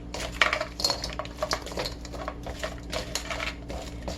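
A utensil stirs marinated food in a wok, producing quiet, irregular metallic clinks and scrapes against the pan, close by and with no talking.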